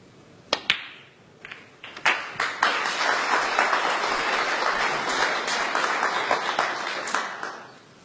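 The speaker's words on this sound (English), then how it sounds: "The applause signifies that's already enough to secure the frame." Snooker spectators applaud in a match hall after a few isolated claps, swelling into sustained, dense clapping that tapers off near the end.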